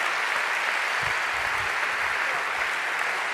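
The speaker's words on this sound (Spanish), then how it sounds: "Quiero también pedir un fuerte aplauso para todos los voluntarios que están con nosotros hoy." Crowd at a national canoeing gala applauds the volunteers, a sustained, even roar of clapping from many hands, moderately distant and filling the room with no speech over it.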